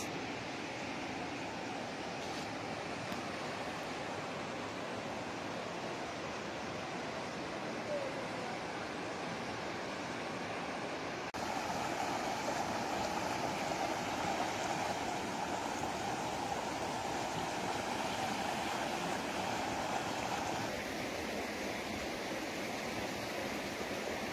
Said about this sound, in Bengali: এর নাম হচ্ছে গৌতম ধারা ওয়াটারফলস